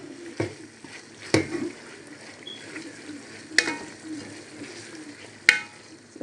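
Vegetable soup of huckleberry leaves (njama njama) with tomatoes being stirred in a pot: four sharp spoon scrapes and knocks against the metal, spaced a second or two apart, over a soft continuous simmer.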